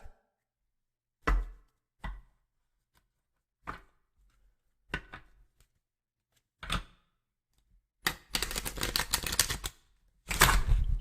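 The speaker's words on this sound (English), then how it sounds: "Oh, my cards just flew everywhere" Tarot cards being handled: several sharp, isolated taps and clacks, then two bursts of flapping, scattering card noise close by near the end, with no talking.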